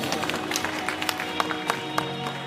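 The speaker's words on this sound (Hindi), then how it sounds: "एक बार उन सबके लिए जोरदार तालियां बजा दीजिए।" Audience at a devotional gathering for Nakoda Bheru claps together in a brief burst of applause, with irregular sharp claps over steady background music, moderately loud and close.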